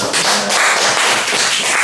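Loud, dense audience applause fills a hall at a talk event with athletes from Semarang, steady and continuous for the whole stretch with no voices rising above it.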